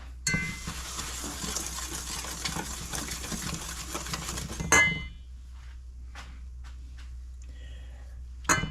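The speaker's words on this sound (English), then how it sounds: "I'll put the sugar in and give that a whisk." Sugar is whisked into Guinness in a pot, a busy scraping and clinking of a whisk against metal for several seconds, then near quiet with a few faint taps and a final clink.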